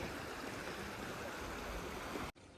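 A river rushes steadily through Sangti Valley in Arunachal Pradesh, on its way to join the Dirang river. The close, even wash of flowing water fills the scene with no voices and cuts off abruptly near the end.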